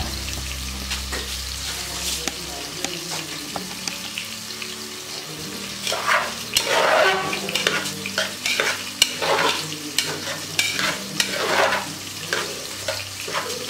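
Tomato masala frying in a pan for a Coorg-style dish, steady sizzle under repeated stirring scrapes, growing busier and louder midway, close up.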